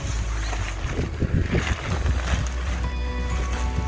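Gusty wind buffeting and flapping a tent's top sheet outdoors during motorcycle camping, a steady low rumble of wind noise with irregular fabric flutters and bursts throughout.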